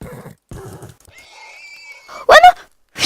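A horse whinnies in Minecraft, a quavering high-pitched neigh preceded by short clip-clop or snort-like sounds and followed by brief loud bursts.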